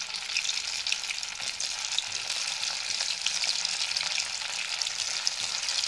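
Idli pieces fry in a pan for chilli idli, giving a steady, even sizzle of hot oil throughout, close and unbroken, with no talking.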